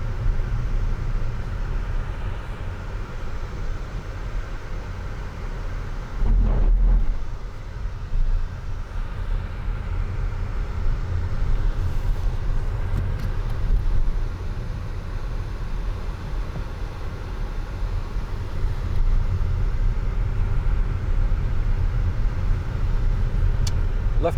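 A 2018 Škoda Superb Sportline Plus 2.0 TDI 150PS with a DSG gearbox accelerates. A steady, moderately loud engine and road rumble builds with a brief swell partway through, and faint voices may sit underneath.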